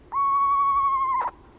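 A saw-whet or screech owl near a waterway gives one long, steady whistled hoot lasting about a second. It is clear and close against a quiet background.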